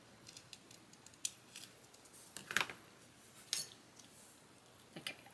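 Scissors snip in scattered, quiet clicks while trimming the white border off a paper craft sticker, with soft handling noise between cuts and no speech.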